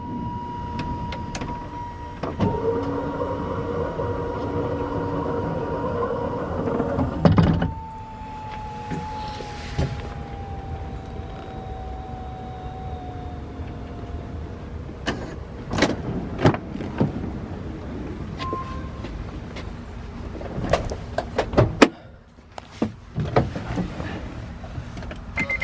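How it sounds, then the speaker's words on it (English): Wheelchair lift on a 2016 Honda Odyssey VMI Northstar conversion van runs with a steady mechanical motor whine and hum for several seconds, then a pitch-sliding tone and scattered clicks and clunks as it stops and settles. "You can also use the wheelchair lift with the button right here. That will also operate the lift."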